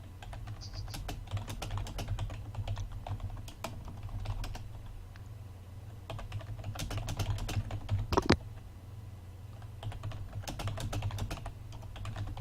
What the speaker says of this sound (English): I hope you like keyboard sounds